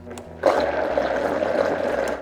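A blender gives popover batter one quick pulse: a sudden loud whirring burst that starts abruptly and runs steadily for under two seconds, close by, with no voices over it.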